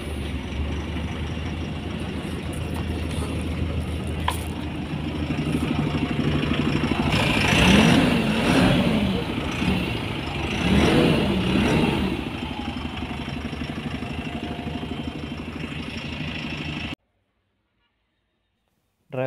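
Eicher Skyline Pro 3010L BS6 bus diesel engine starts and runs with a rumbling idle that swells to a louder rev in the middle, close by, then cuts off abruptly.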